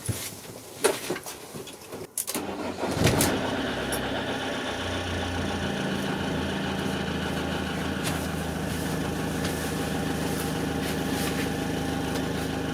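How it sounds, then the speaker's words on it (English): Clicks and rustling, then a van engine turns over at about three seconds and settles into a steady idle that continues evenly to the end. "That's the engine going, so I'll leave that going for 10 minutes."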